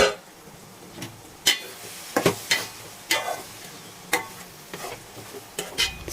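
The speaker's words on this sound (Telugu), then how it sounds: "ముందుగా కడిగి కోసి పెట్టుకున్న 2 టమాటా ముక్కల్ని కూడా వేయించేసి బాగా కలుపుకుందాం." Chopped tomato pieces fry in a pan of cluster bean stir-fry, with a soft steady sizzle broken by about a dozen sharp scraping strokes of a spoon being stirred through, irregularly spaced and close.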